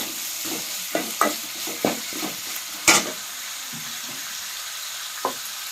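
Cumin seeds frying in a pan for potato curry, with soft sizzling beneath a series of sharp stirring scrapes and clinks against the pan, spaced irregularly.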